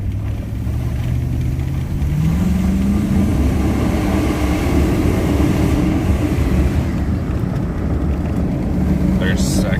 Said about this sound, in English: We'll shift it through the gears manually.